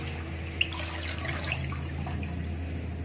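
Hot water runs into a pot holding sliced potato wafers, a soft continuous pour with faint splashes and a single small clink, close and fairly quiet.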